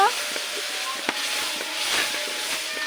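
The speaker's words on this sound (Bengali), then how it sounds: "মশলাটা ভালোভাবে কষিয়ে নিবে ভেজে ভেজে মশলাটা কষানো শেষ" Spice paste with chilli powder frying for beef bhuna curry, a close continuous sizzle with spoon scrapes and taps as it is stirred in the pan.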